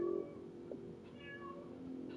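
A cat meows in a single, fairly soft drawn-out call, alone against a quiet steady background with no talking.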